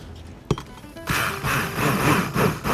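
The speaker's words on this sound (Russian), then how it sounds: "Возьмем блендер. Нам надо перемешать," A blender whirs to mix a salted taco marinade for tacos rancheros. A sharp knock comes first, then the motor starts and runs loud and steady with a slightly pulsing whir.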